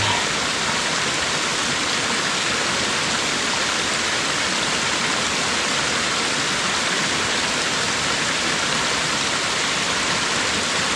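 Steady, loud rush of a stream flowing across a plot of land, a continuous broadband hiss of moving water with no pauses.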